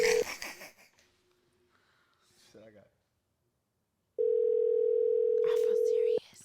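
Unanswered phone call ringing out, with a long steady electronic ring tone near the end after a stretch of faint breathing and quiet background noise.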